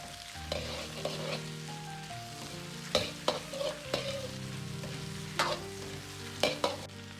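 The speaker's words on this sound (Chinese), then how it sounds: "接着下入姜、葱、蒜煸炒出香味。" Ginger, scallion and garlic are stir-fried in a wok in hot rendered pork fat, with a steady sizzle broken by sharp spatula scrapes and knocks against the metal at irregular intervals.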